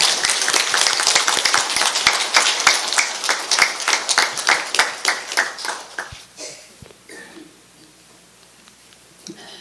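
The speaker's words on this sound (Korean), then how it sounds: "큰 박수로 법사님을 모시겠습니다" Audience applause welcoming a dharma speaker to a Won Buddhist temple service, starting dense and steady, then thinning into scattered claps that fade out, leaving a quiet room.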